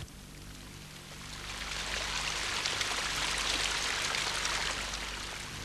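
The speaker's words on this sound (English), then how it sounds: "The dancing streams flow down, resounding the atmosphere with a magical music." A Himalayan mountain stream in the Doon Valley rushes and splashes in a steady broadband wash that swells slightly partway through, close and without talk.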